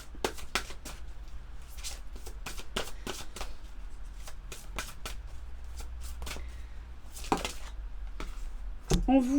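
Oracle cards are shuffled by hand in a series of crisp, quick riffles and slaps, close and clear, with a short pause partway through and a voice briefly at the end.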